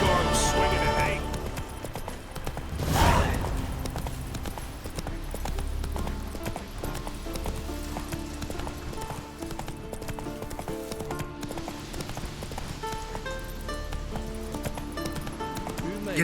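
Horse hooves clip-clop at a steady gallop in The Witcher 3, a continuous close rhythm running under game music with a brief whinny near the start.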